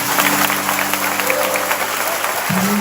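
Audience applause, a dense, steady patter of many hands clapping at a lively event, with a low sustained hum and a deeper tone entering near the end.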